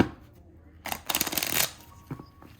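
Tarot cards are shuffled by hand: a dense, rapid flutter of riffling and swishing in the middle, with quieter shuffling scrapes before and after, close up.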